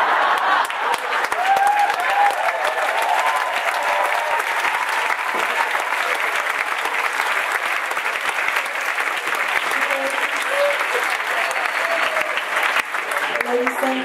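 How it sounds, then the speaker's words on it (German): Sustained applause from a circus festival audience, steady and dense throughout, with a few faint voices mixed into the clapping crowd. "Bitte klatschen Sie zuerst selbst und helfen Sie dann Ihren Nachbarn."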